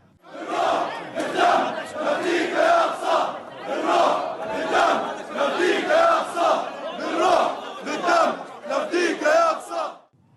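Around 2,000 Muslims gathered at the Mughrabi Gate entrance in Jerusalem after morning prayers chant war slogans, a loud crowd shouting in rhythmic surging bursts that rise and fall steadily.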